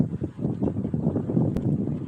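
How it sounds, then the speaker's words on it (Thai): Strong gusts buffeting an outdoor microphone, a loud, uneven low rumble lasting throughout with no voices. "ลมแรงมาก"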